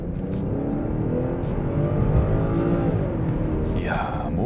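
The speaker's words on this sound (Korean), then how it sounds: "이러고 있다가 세게 밟으면 이 미친 반응과 다이내믹한 주행 느낌" A 2020 BMW 740Li luxury sedan pulls away and accelerates hard, its engine note rising steadily from inside the cabin, while someone talks over it throughout.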